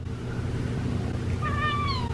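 A pet cat gives a single short, rising-then-falling meow close by, near the end of a steady low background rumble.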